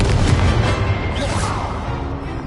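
Incendio fire spell cast in the Hogwarts Legacy video game: a loud, roaring whoosh of flame that is strongest at the start and slowly fades over about two seconds.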